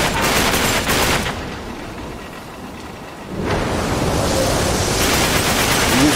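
Heavy gunfire roars as a dense, noisy burst in the video game Uncharted 3, dropping to a quieter lull midway before the loud rattle swells back up.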